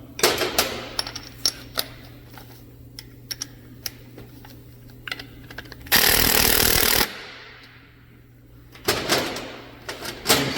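An old, worn-out DeWalt power tool working on clutch bolts: a loud one-second burst of grinding whir, then short rattling bursts, surrounded by scattered clanks and clicks of tools close by.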